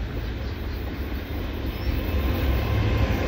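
A low, steady rumble of a passing double-stack freight train, continuous and fairly close, with a faint squeal briefly rising above the roar.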